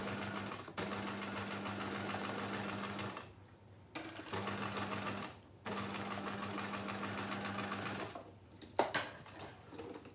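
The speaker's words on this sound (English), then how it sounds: "you sew that straight across here" A sewing machine stitches straight across fabric for a phone or tablet holder, running in long steady humming bursts broken by short pauses and small clicks, close and clear with no speech.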